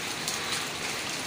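Steady rain falling, a soft continuous hiss of drops heard quietly and evenly throughout with no voices.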